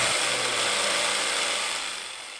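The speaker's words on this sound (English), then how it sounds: "Now using a jigsaw, I follow the cut lines to complete the cutouts." A jigsaw saws through a wooden workbench template along traced lines, a steady close mechanical buzz of rapid blade strokes that holds for the whole stretch and eases slightly at the end.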